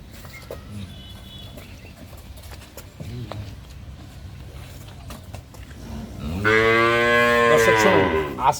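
A cow on a Dinajpur farm gives one loud, drawn-out moo close to the microphone near the end, after quieter farmyard background noise with a few soft knocks.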